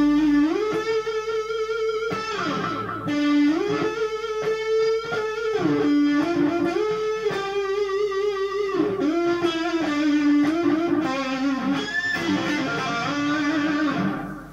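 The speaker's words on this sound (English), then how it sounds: "This way sounds like a little bit more delay on it and some distortion." An electric guitar with distortion through an MXR Carbon Copy delay pedal plays a gritty melodic riff with echoes repeating behind the notes, continuous and prominent with no voices.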